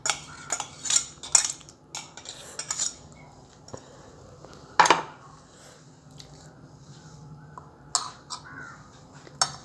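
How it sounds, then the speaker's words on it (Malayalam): A spoon stirs and mixes food in a pot in a home kitchen, with close scraping and clinking strokes in an irregular rhythm and a steady low hum underneath. "ഇത് നന്നായിട്ട് നമ്മളിതിനെ ഇളക്കി നല്ലതായിട്ട് മിക്സ് ചെയ്ത് കൊടുക്കണം."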